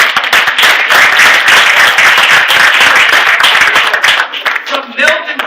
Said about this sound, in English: Let's give Johnny a big round of applause.